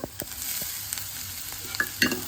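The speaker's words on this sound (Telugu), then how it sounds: "ఈ మసాలాకి ఉల్లిపాయలు యాడ్ చేసేస్తున్నాను" Thinly sliced onions stirred into dosa masala in a pan, giving a soft, continuous sizzle with scattered spatula taps and scrapes, fairly quiet and without talk.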